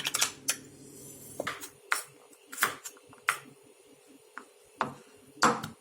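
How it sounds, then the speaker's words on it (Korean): A spoon stirs mayonnaise and honey together in a bowl for a garlic sauce, making a scattered series of sharp, close clinks and taps against the dish, with quiet pauses between them. "마요네즈 2스푼, 그리고 꿀 반 스푼을 먼저 준비해 섞어 주시고요"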